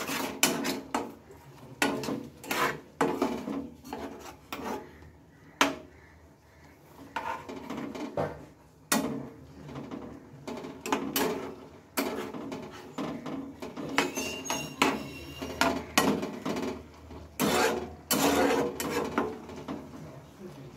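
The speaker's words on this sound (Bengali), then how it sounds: "এবার সবগুলোকে আমি ভালোভাবে মিশিয়ে দেবো" Green chillies, salt and turmeric being mixed in a bowl for an egg dish, with repeated scraping and clinking of a utensil against the bowl in an uneven rhythm, close and fairly loud.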